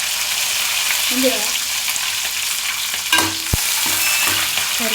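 Cashews fry in a spoonful of ghee with steady, close sizzling and occasional stirring clatter, a brief spoken word passing over it.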